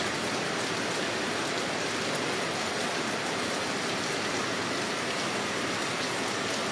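Steady rain pours at Sarae Land Palutungan in Kuningan, a dense unbroken hiss of falling water with no wind, close and constant throughout, with no voices.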